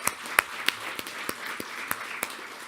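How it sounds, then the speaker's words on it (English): A few people clap at a township council meeting, sparse separate hand claps spaced out over under three seconds in a fairly quiet room. "round of applause for our fabulous coaches"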